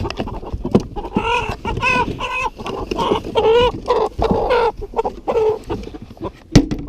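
Big healthy chickens from a main flock clucking repeatedly, close by, in a steady run of overlapping calls with a few sharper squawks.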